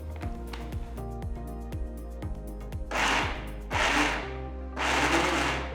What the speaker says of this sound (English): Grind the soaked dal a bit coarsely.